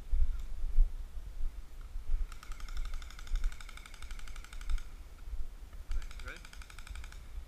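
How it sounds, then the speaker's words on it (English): Airsoft guns firing in rapid bursts during an outdoor Vietnam-themed game, two fast rattling volleys at moderate distance over background noise and some talk. "Oh, he's shooting at me."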